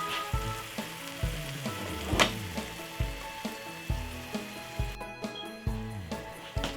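Tuna pasta sauce stirred in a pan, a soft sizzle broken by regular scraping strokes of a spoon, close and fairly quiet, with a sharper knock near the middle.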